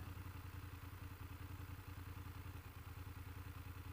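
A motorcycle engine idles steadily as the clutch is eased out into the friction zone, with a low, even rumble and fine rhythmic clatter, continuous and fairly faint.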